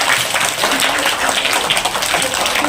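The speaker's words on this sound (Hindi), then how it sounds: "एक बार इनके लिए जोरदार तालियां" Loud applause from an audience at a dress distribution event in Udaipur, Rajasthan: dense, steady clapping close by, filling the whole moment with no break.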